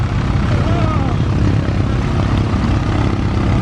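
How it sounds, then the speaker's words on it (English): Vintage propeller airplanes taxi at an airshow, a loud steady engine drone with propeller buzz filling the air without letup, near and continuous, while a voice talks over it. "And here they go, everybody. Taxiing on down towards the runway there"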